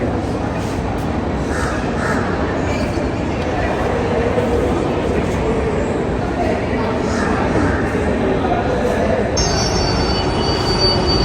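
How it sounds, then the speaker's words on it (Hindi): Delhi Metro train pulling into Supreme Court station, a loud continuous rumble of wheels on rail with high squealing, close by and steady throughout, with crows cawing and people talking in the station. "और यह हमारी मेट्रो आ गई"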